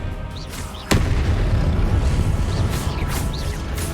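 A Confringo explosion spell in Hogwarts Legacy lands with one sharp, loud blast about a second in, followed by a rumbling low boom and crackling debris under faint high whooshing spell effects.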